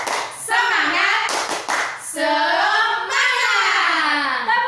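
Kindergarten children doing a rhythmic Indonesian clapping chant, sharp grouped claps alternating with loud chanted and sung voices, close and lively.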